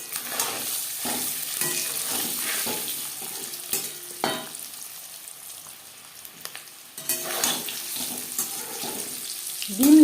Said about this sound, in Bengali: উল্টে পাল্টে লালচে করে ভেজে নেব।